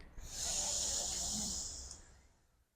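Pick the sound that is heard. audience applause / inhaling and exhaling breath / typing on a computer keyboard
inhaling and exhaling breath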